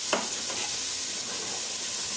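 Diced medium onion sizzles in sausage grease in a pot over low heat, a steady close hiss of frying with a brief stirring clatter at the start and no talking.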